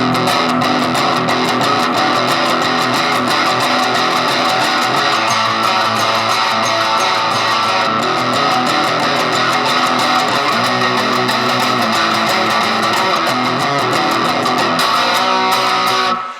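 Fast, steady 12-bar blues rhythm played on guitar, dense and continuous for the whole stretch, loud and close with no voices.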